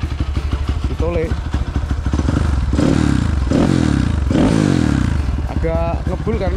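An old motorcycle engine fired up after sitting unused for a long time, its carburetor removed, idles with a steady close rumble that rises in bursts, while people talk over it.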